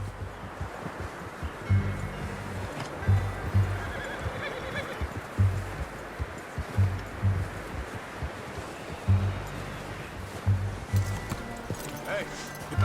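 A horse in the Red Dead Redemption 2 video game whinnies and snorts over steady clip-clopping hooves, with rustling in the background and someone talking over it.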